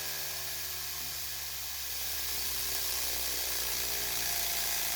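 A 3D-printed magnet rotor spins inside a makeshift housing, making a steady, loud whirring hiss of air friction with a constant motor drone that holds evenly throughout.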